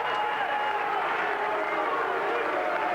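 A large stadium crowd at a 1987 Rugby World Cup match between the United States and England roars steadily after a big clearance kick, a continuous dense wash of cheering and applause heard from a distance.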